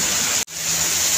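Heavy rain falls outdoors as a loud, steady broadband hiss that cuts out for a moment partway through, then returns.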